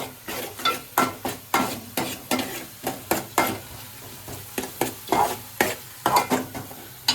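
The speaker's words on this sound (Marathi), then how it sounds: "चांगला तेलात ना कांदा आणि लसूण चांगली फ्राय करून घ्यायची" Onion and garlic frying in oil, with a steady, rhythmic run of close spatula strokes scraping and tapping the pan over a continuous sizzle.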